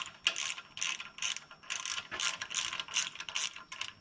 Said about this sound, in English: 12mm socket takes it off.